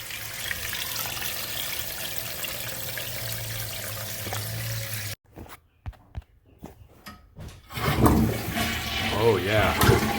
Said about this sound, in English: That's a nice flushing toilet, man.